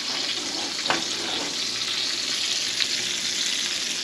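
Two bluefish pieces frying in a small pan give a continuous close sizzle with occasional soft pops and crackles.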